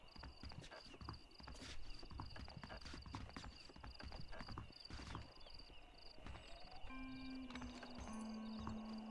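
Horses clip-clop steadily in the Western video game Red Dead Redemption, hooves clopping in an ongoing rhythm over a busy game soundscape with a brief whinny-like tone near the end.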